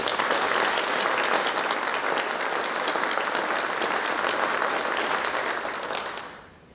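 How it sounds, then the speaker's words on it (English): Sustained applause from a large crowd at a white coat ceremony, steady clapping for about six seconds before fading out at the end. "Let's give them all a round of applause."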